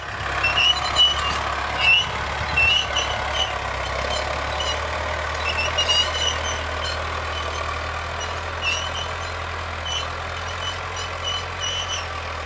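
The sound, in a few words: tractor ploughing a field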